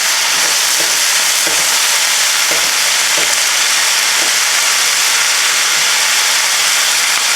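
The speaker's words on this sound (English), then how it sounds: "You stir that around. It's going to start wilting." Swiss chard seasoned with salt and pepper being stirred and sautéed in a pan, a loud continuous hiss of frying with soft rhythmic stirring thumps, no speech.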